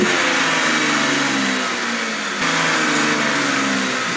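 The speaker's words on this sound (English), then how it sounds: "start the car for a minute" A Cadillac CTS engine runs loud and steady at a fast idle, with a brief dip partway through and no voices.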